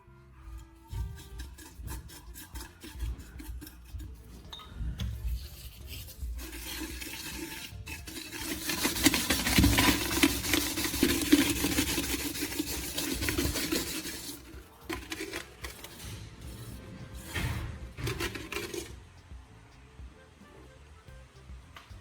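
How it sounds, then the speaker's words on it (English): A metal pan is scrubbed with a Coca-Cola and charcoal mixture, giving a steady rasping rub that grows louder and denser through the middle, then eases back to lighter strokes. "Just apply a little more of the mixture and scrub again."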